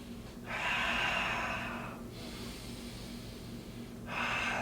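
Slow, deep yoga breaths drawn audibly through the nose and mouth, two long airy inhales or exhales separated by a quieter pause, close to the microphone over a faint steady hum, with no talking.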